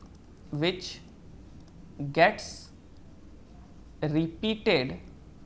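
A teacher writes a definition on a classroom board, producing short, squeaky, tonal marker strokes in a few separate bursts with quiet gaps between them, close and clear.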